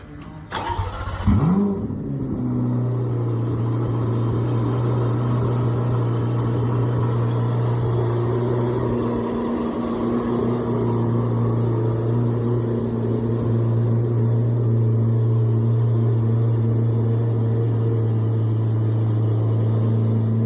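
A 2025 Corvette C8 ZR1 cold-starts with a sharp crank and a loud engine flare, then settles into a steady, droning high idle that continues for many seconds, close and powerful.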